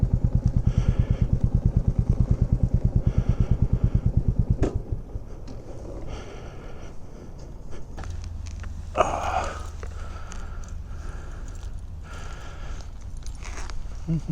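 A dirt bike engine putters in fast, regular pulses close by for about five seconds, then drops away, leaving a steady background hum with a few scattered clatters.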